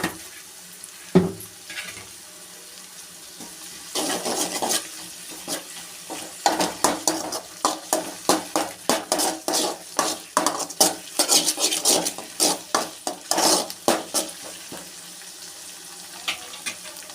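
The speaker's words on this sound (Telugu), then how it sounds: "తర్వాత కొంచెం అల్లం వెల్లుల్లి పేస్ట్ కొంచెం అలా వేసుకోవాలి" Ginger garlic paste fries in a pan for veg Maggi as a spoon stirs it with a quick run of rhythmic scrapes and clatters over a soft sizzle, close and fairly loud, with no talking.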